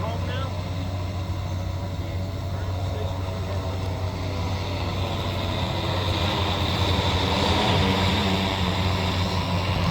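Walmart delivery drone flying back home over Walmart #100 in Bentonville, Arkansas: a steady, continuous rotor drone and wind rush, growing slightly louder as it nears, with a voice talking over it.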